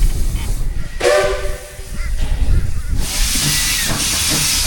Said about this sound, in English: You can watch the steam engine prepare for the trip from the railway bridge overpass here.